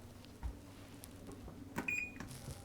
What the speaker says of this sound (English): I am also going to preheat the oven to 375 now.